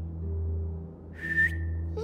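A person gives a short, bright whistle partway through, rising and held briefly as a call to a dog, over a steady low hum, in The Walking Dead: The Final Season video game.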